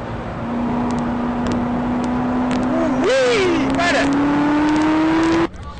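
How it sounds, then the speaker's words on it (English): A Corvette ZR1 accelerates hard, its engine note climbing steadily in pitch as one sustained, loud roar, with a brief rise and dip midway, cutting off abruptly at the end. "the ZR1 is taking no prisoners when the driver kicks down the gas pedal"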